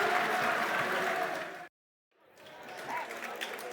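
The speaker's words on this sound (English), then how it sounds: "Good round of applause, Billy." A football crowd at a Millwall versus Birmingham City match claps and cheers steadily, the applause cutting out abruptly for a moment of silence before rising again.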